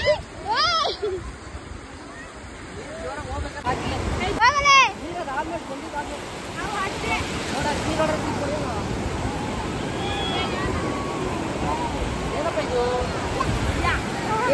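Ocean surf washes up on a beach at Honnavar in a broad, rushing roar that swells in the second half. Excited voices and children's squeals ring out near the start and carry on over the waves.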